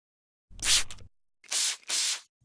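A spray bottle mists disinfectant onto a kitchen counter in three close, loud bursts of hiss: one longer spritz followed by two quicker ones, with silence in between.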